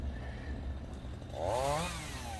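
A two-stroke chainsaw clearing acacia brush revs briefly and rises in pitch, a faint whine over low background rumble.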